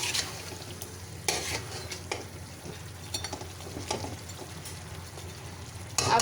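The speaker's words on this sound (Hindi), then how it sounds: "मसाले को हल्का सा भून के" Spices lightly roasting in a pan give a soft, steady sizzle broken by several scraping stirs of a utensil against the metal.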